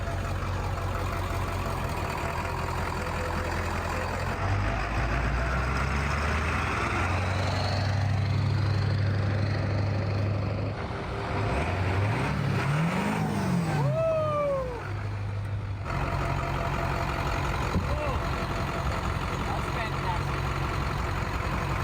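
A truck engine idles with a steady low rumble that swells slightly as it revs, with voices and a few whiny squeals over it.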